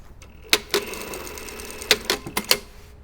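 A sewing machine stitches the shoulder seams of garment facings in a few short, sharp bursts of rapid clatter separated by brief pauses, close and clear with no talking.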